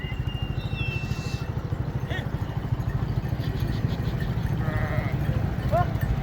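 A roadside flock of sheep and goats bleating now and then over the steady putter of a nearby motorcycle engine idling, with someone talking over it.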